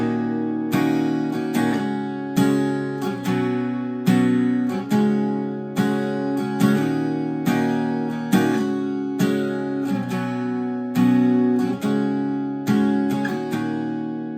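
Acoustic guitar plays the intro of a song at regular speed, steady strummed and picked chords in a repeating rhythm, close and clear with no voice.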